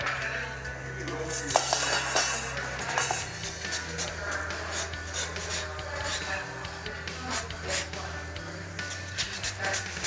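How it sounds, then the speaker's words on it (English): A knife julienning an apple on a cutting board gives quick, irregular taps and clicks, mixed with light kitchen clatter while something fries nearby. "While this is frying, I'm going to julienne my apple to garnish."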